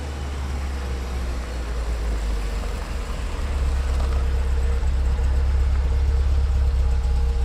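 Engines of a halted military column idling on a foggy road, a loud continuous low rumble that grows slightly heavier partway through, steady and droning with no voices.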